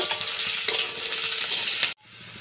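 Bay leaf, onion and dried chili frying in hot oil in a village kitchen in Assam, a loud steady sizzle with faint stirring scrapes that cuts off abruptly near the end, leaving a quieter hiss.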